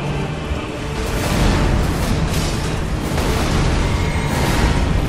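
Loud, dense rumbling blasts and booms roll on without pause, a continuous wall of explosive noise with no clear talking, from the video game Elden Ring.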